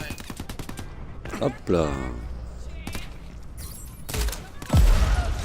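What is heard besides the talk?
gunfire in the video game Crackdown 3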